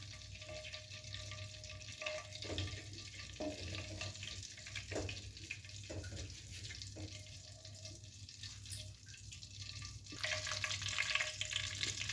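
Besan (gram flour) fries in melted desi ghee while being stirred for besan barfi, giving a steady, soft sizzle with occasional scraping clicks of the spoon. The sound is close and continuous, with no talking.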